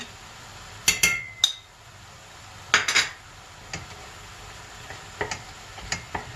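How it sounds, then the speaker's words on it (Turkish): A spoon scrapes and clinks against a pan while tomato paste and pepper paste are stirred in, for a Turkish eggplant kebab. The clinks come in a few sharp, irregular bursts spaced apart, moderately loud and close, with no talk. "Karıştırıyorum"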